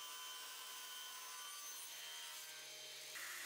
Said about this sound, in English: I cut off the rough edge on the table saw.